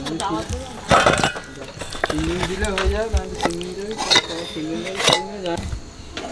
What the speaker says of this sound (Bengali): আলুর দম হয়ে গেছে ঢেলে দিচ্ছি